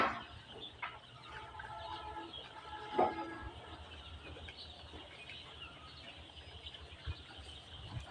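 Thousands of fifteen-day-old layer chicks in a new poultry farm shed make a dense, constant chorus of high peeping, with one louder call standing out briefly amid the steady background din.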